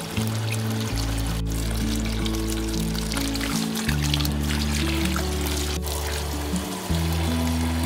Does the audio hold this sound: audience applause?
no